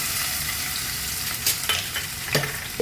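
Garlic in hot oil sizzles with a bright, steady crackle, broken by a few soft clicks and scrapes of a spoon.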